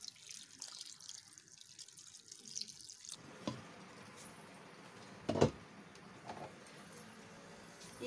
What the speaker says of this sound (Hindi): इसमें हम डाल देंगे पानी।